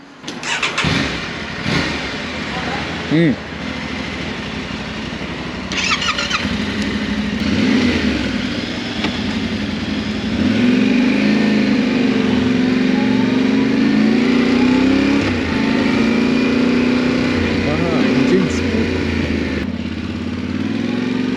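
An adventure motorcycle, either an Aprilia Tuareg or a Yamaha Tenere 700, runs smoothly while being ridden, its engine droning and rising and falling in pitch with throttle changes over steady road and wind noise.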